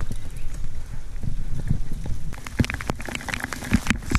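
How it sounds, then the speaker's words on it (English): Heavy rain falling steadily in a wet outdoor setting in the Barrington Tops, New South Wales, a dense patter with sharper drop impacts scattered through it and no voices. "So much rain."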